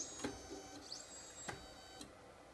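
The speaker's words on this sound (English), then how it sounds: "Heat bed scan, and I'm starting, and there it goes." A Renkforce RF1000 3D printer runs a heat bed scan, giving quiet mechanical clicks and short whirring stepper-motor moves, a few distinct taps spaced about half a second apart, close by.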